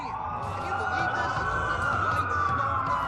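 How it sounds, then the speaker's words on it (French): Police sirens in the video game Watch Dogs wail continuously with rising and falling tones, loud and close, over a low rumble of traffic. "Ça fait beaucoup de sirènes pour une coupure."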